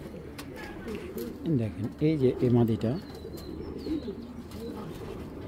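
Pigeons in a Bangladeshi loft, a pair including a hen, coo in a few low, rolling bursts close by, heard under someone talking throughout.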